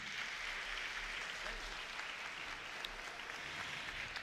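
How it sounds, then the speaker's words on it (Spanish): Steady applause from a crowd at a school graduation ceremony, a dense even patter of clapping lasting several seconds at moderate, distant-sounding level with no talk over it. "de nuevo fuerte el aplauso para ellos."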